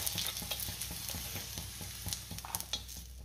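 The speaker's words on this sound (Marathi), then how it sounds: "मिरची छान परतून झाली, त्यातच मी लसूण घालते आणि लसूण सुद्धा थोडा परतून घेणार आहे" Garlic and green chillies sauté in a hot pan with a constant close sizzle, broken by a steady rhythm of spoon-stirring scrapes and clicks. No voices can be heard.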